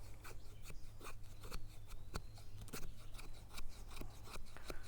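A knife shaves thin feather-stick curls from wood in quick, close, scraping strokes, one soft rasp after another in an uneven rhythm.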